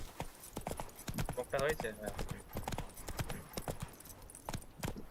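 In The Witcher 3, the horse Roach gallops with rapid, close hoofbeats that keep up a steady rhythm, and someone talks over the running hooves.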